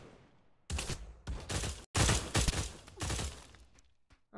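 Bursts of rapid gunfire in the VR shooter Pavlov, several loud, close volleys separated by short gaps of quiet.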